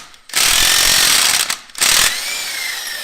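A power tool removing the alternator pulley on a Honda CRX: two loud, harsh rattling bursts of an impact wrench, the first about a second long and the second shorter, each ending abruptly, followed by a fading mechanical whir.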